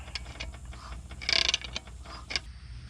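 A Kubota D1105 diesel engine turned over by hand gives faint mechanical clicks, creaks and ratcheting ticks, with a brief louder grinding rattle midway, heard close up.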